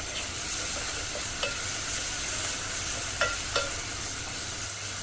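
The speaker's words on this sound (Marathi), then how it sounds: "आता परतून घेऊया आणि भाजून घेऊया मसाले" Masala paste and onion stir-fried in oil in a pan, with a soft, steady sizzle broken by a few sharp scraping stirs of a spoon, fairly quiet and close.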